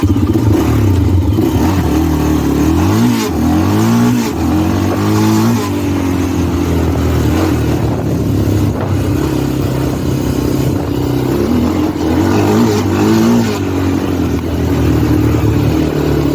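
A Honda TRX400EX quad engine with worn bearings runs loudly and continuously, revving up and down with a rattling, clattery mechanical undertone throughout.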